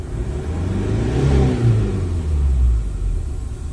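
A Mazda CX-5 Skyactiv engine revs up, its rumble rising in pitch and loudness to a sustained 3,500 RPM, then holding steady.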